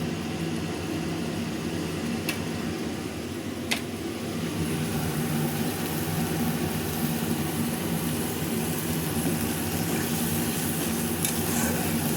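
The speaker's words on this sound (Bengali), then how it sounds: "দিলাম তো তেল একটু কম কম মনে হচ্ছে মশলাগুলোকে ভালো করে কষাতে হবে" Spices sautéing in a little oil in a pan while being stirred, a steady dense sizzle that runs throughout, with a couple of brief utensil clicks near the start.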